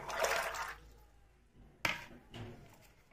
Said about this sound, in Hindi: मैंने कुकर में ले लिया है पानी, अब हम डाल देंगे इसमें मटर,